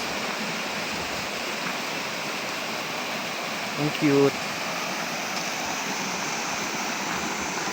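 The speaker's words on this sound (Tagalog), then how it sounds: "May mini falls." A small waterfall feeds a strong flowing stream outdoors, making a constant close rushing hiss of water, with a brief voice speaking once in the middle.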